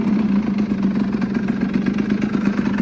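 A cold 50cc motorcycle engine idles steadily after starting, its close, rapid putter running evenly throughout with a light mechanical clatter and no talk.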